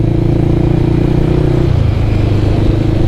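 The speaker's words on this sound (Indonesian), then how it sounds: "motor ini bisa dibilang cukup menjambak, karena mesinnya sendiri kan pakai mesin ini, mesin turunan dari R25" A 250cc touring motorcycle with an engine derived from the Yamaha R25 runs nearby in a loud, steady drone, its tone shifting partway through, with no talking.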